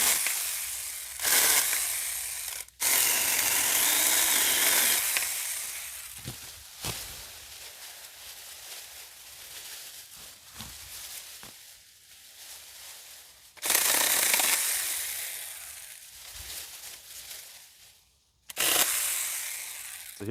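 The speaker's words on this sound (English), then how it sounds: "It's got a sharp little chain on it. It goes right through this stuff." A small chain saw with a sharp chain cuts through 1-inch branches in several loud bursts of buzzing and rasping, separated by quieter lulls.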